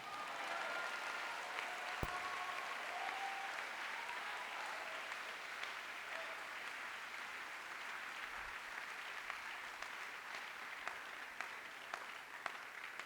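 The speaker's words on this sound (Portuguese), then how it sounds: "Alguém aplaude a Jesus, aplaude." A church congregation applauds in a steady, sustained wash of clapping that stays at an even, moderate level throughout, with no voices over it.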